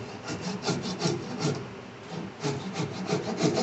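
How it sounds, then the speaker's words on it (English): A hand saw cuts off a wooden plug flush with a board while building a wooden loft ladder, giving a steady run of close, rasping back-and-forth strokes in an even rhythm, with a brief pause midway. "Just take your saw."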